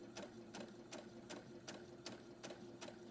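A sewing machine stitches fabric for a fabric box in a quick, even run of mechanical needle clicks over a faint motor hum, with no talk.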